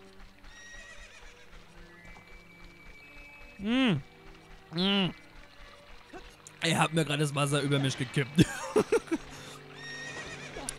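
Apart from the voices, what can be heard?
horse Epona neighing, from video game Zelda: Ocarina of Time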